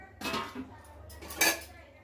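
A metal lid lifted off a pot of beetroot vegetable biryani, two quiet clinking, scraping contacts of metal on metal, close and brief.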